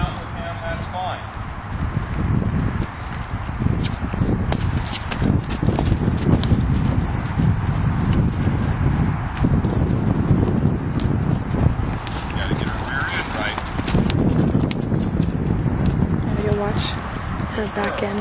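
A mare walks and canters under saddle in an arena, her hooves clip-clopping in a steady rhythm with soft, dull thuds on the ground throughout, close by, while someone talks over the sound.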